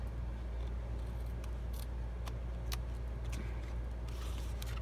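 Scissors snip through card stock for a Stampin' Up! note card gift box, a few sharp, close cuts spaced irregularly over a steady low background hum.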